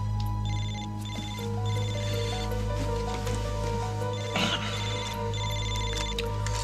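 A telephone rings in a domestic drama scene, repeating electronic trills in regular bursts over a low steady hum, moderately loud with faint background rustle and no talk.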